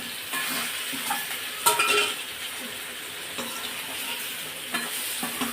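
Steady sizzling of potatoes and okra frying in a pan for Chettinad masala, with repeated scraping and clinking as it is stirred, close and continuous.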